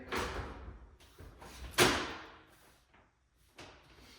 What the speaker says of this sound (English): Now I'm gonna reinstall this oven door.